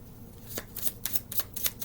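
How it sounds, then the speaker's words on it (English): A deck of tarot cards being shuffled by hand, a quick run of crisp riffling bursts at close range with no talking. "Super easy to shuffle these really good though compared to all my other decks."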